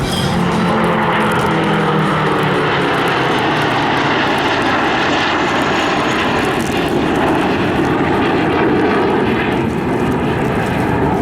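A Gloster Meteor jet flies past at an airshow, its engine roar loud and continuous for the whole stretch, rising and falling slightly as it passes, with no talking over it.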